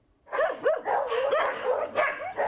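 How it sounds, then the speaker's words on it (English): Two 5-month-old pit bull puppies at the Beaumont Animal Shelter let out a rapid run of close, high-pitched yipping barks, about half a dozen in quick succession. "There are many dogs in need of homes at the Beaumont Animal Shelter, including these 2 5-month-old pit bulls, Josie and Peanut."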